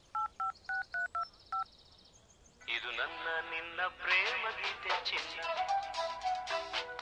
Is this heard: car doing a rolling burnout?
no